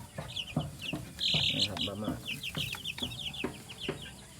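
Blue Orpington chickens cluck and chatter on a farm, a busy run of short repeated clucks and squawky calls from several birds nearby, with a voice briefly heard among them.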